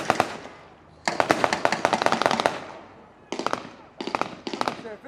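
Automatic weapons, mostly 9mm, fire at a battle re-enactment at Ramsbottom station, with rapid crackling bursts of blank fire in several separate volleys at moderate distance.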